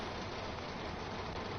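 Steady dense hiss of rain drumming on a train in a railway simulator game, constant and even with no talk.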